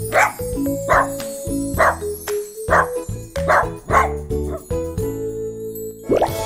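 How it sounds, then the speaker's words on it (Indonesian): A dog barks repeatedly in short, evenly spaced bursts over a cheerful, bouncy music track with light tinkling sounds. "Itu suara anjing."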